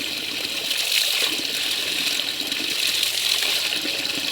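Strong torrent of water rushing steadily with a loud, broad hiss and churn, continuous and close, no voices over it.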